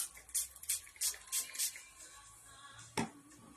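Water poured or dribbled in a few short splashes while making a hanging pallet craft, a quick run of soft liquid bursts followed by a single sharper splash, faint and near.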